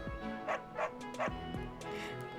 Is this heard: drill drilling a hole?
no